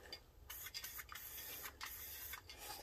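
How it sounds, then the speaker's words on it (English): Short bursts of paint from a spray trigger aimed at chrome wheels, a steady hiss switched on and off several times in quick succession, close and fairly loud. "So let's give a little test spray."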